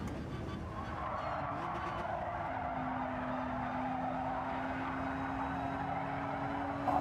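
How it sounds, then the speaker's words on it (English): Race car in Gran Turismo 7 scrubbing its tyre through a long corner, a steady engine drone with a sustained tyre squeal, loud and continuous throughout. "I'm really leaning on that tyre, just scrubbing it all the way through that corner"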